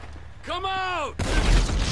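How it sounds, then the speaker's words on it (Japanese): Shotgun fire in the video game GTA 5 erupts as a loud, broad blast that sustains for nearly a second, just after a short rising and falling voice-like tone. "ショットガン"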